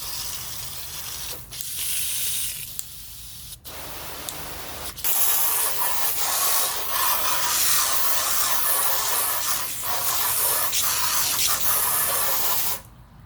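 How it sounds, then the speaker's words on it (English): A garden hose sprays water onto a tire, a steady close hiss that starts and stops in short bursts before running continuously for several seconds, with no speech. "grab your hose, of course. And you want to flush as much of the dirt off as you can to start with"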